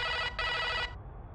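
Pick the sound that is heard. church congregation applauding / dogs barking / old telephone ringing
old telephone ringing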